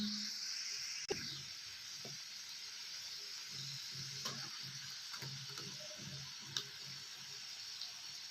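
Tomato, onion and cashew paste sizzling steadily in a hot pan, a continuous close frying hiss with a few light stirring clicks and scrapes.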